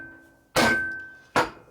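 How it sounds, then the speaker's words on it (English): Two heavy blows from a 20-pound lead hammer striking the flywheel of a 1997 Harley Evolution 80ci lower end during a rebuild, each a loud, sharp metallic impact with a ringing tone that lingers and slowly fades, about a second apart. "I'm going to hit here on this side and here on this side with my hammer"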